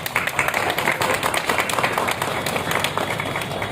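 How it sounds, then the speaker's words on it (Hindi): Crowd at a retirement honouring ceremony for Delhi municipal sanitation workers claps loudly and steadily throughout, a dense unbroken patter of many hands close by. "बड़ी जोर से भाई ताली बजाओ।"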